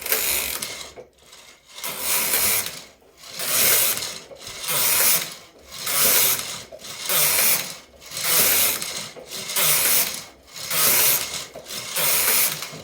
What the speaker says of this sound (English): I'm now going to knit 10 rows of completely plain knitting